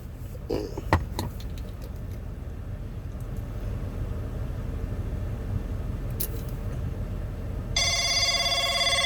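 A telephone rings near the end, a steady electronic trill that sets in and holds, over a constant low rumble of traffic and faint background noise, with a few brief clicks earlier.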